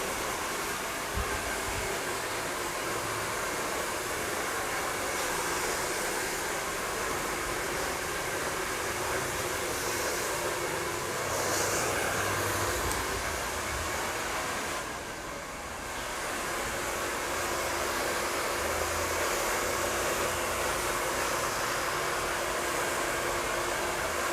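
A hair dryer blows steadily while styling a man's hair into a freestyle set, a loud, continuous close-up whoosh of airflow that barely changes over the whole stretch, with only a slight dip midway.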